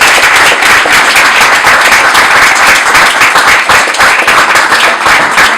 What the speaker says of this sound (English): Give another round of applause to Representative John Scibak.